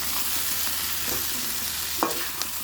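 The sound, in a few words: taro root pieces added and stirred in pan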